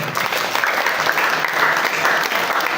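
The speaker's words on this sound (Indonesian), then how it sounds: "tepuk tangan sekali lagi untuk teater Kala." Steady, dense applause from an audience at a school theatre festival fills the whole stretch, loud and continuous, with the crowd clapping for a theatre group after its stage performance.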